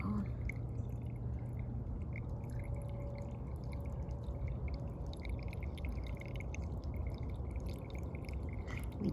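Water drains through eroding soil in a lab stream-table model, carving a small canyon down the middle; a steady, soft wash of trickling and dripping runs the whole time at an even level.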